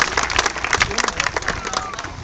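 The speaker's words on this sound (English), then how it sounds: "give her a huge round of applause" Crowd applause at a sea lion show at Blackpool Zoo, a lively mix of clapping and scattered cheers from a large outdoor audience, with some voices in the crowd mixed in.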